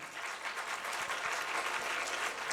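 A school audience at a Children's Day event claps in sustained, dense applause, steady and fairly close throughout.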